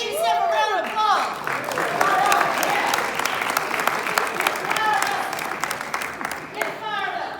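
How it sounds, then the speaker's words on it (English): Retired teachers of Tennessee applauding themselves at their conference, sustained loud clapping from a large crowd with whoops and a voice speaking over the start and end. "now give yourself a round of applause"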